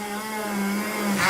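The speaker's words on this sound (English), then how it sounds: "I then am going to drill the hole again through here" Power drill boring a hole through a small metal light-fixture component, a steady whining motor tone with a slight rise in pitch near the end, close and loud, no talk.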